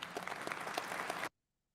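Applause from a campaign event crowd after a speech, a dense, fairly distant clatter of many hands that cuts off abruptly into silence.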